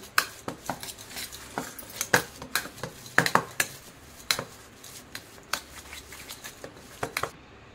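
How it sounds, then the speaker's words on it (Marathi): Homemade chakka, thick strained yogurt, beaten with a metal spoon in a bowl for a festival sweet, giving repeated close scraping clinks and taps in an uneven rhythm, with no talking. "आता आपल्याला चांगलं फेटवून घ्यायचं चमच्याने"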